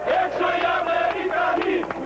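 A dense crowd of thousands of rioting protesters in central Athens, a loud, sustained roar of shouting voices chanting and yelling together.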